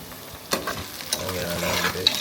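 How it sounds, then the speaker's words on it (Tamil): Rice being stirred into a pot for beef biryani gives faint scraping and clattering spoon strokes over a low sizzle, with a few sharper knocks spread across a short quiet stretch. "நல்லா அரிசி போட்டு கிண்ட ஆரம்பிச்சாச்சு"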